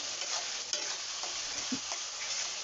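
Salted onions sizzle in oil for a farm chicken curry. A spoon turns them over in a steady, close frying hiss with soft stirring scrapes and no voices.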